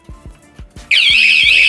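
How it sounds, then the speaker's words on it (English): A bicycle's anti-theft alarm starts up loud and continuous after several soft knocks as the bike is moved, a piercing warbling siren that sweeps up and down in pitch. "set the alarm so if you move it"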